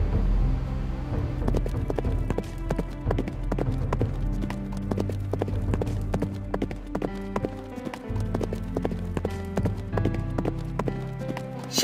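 Hooves pound in a fast, steady galloping rhythm, close by and continuous, with a low rumble underneath.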